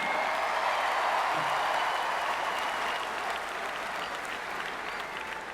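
Large crowd applauding at Hoosier Hysteria, the Indiana basketball season-opening event, a dense, sustained wash of clapping that fills the hall and tapers slightly toward the end.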